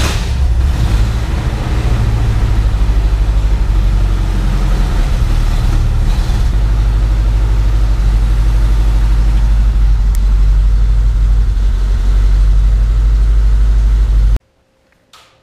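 A 1980 Chevrolet Camaro engine cranks and settles into a loud, steady idle with a deep rumble lasting about fourteen seconds before cutting off abruptly; no voices.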